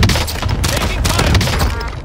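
Enemy gunfire rattles through a Warzone match on Rebirth Island, a steady dense barrage of shots and thumps lasting the whole moment, loud and close, with game voices mixed in.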